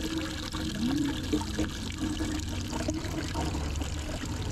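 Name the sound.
water flowing slowly from a tap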